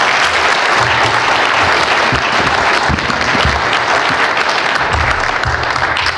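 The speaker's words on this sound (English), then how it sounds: "ask for a round of applause for our panelists" An audience at an IEEE PES plenary session on energy policy and air quality gives the panelists a loud, full round of applause, a dense wash of many hands clapping throughout.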